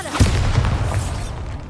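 A Bombarda explosion spell from Hogwarts Legacy lands as one heavy, close boom. A deep, rolling rumble follows and tapers off. No voices are present.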